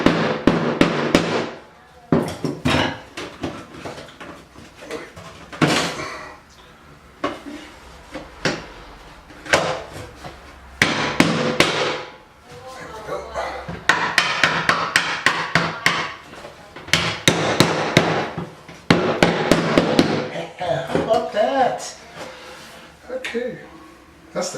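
Oak wood piece tapped into place with a hammer during a closet remodel repair, a series of sharp, loud knocks in clustered bursts, with a voice talking at times.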